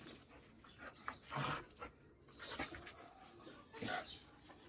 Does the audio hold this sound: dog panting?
yes